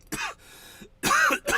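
A person who has just taken a dab coughs and clears their throat in a few rough bursts, close to the microphone, with short pauses between.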